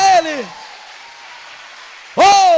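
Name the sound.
congregation applause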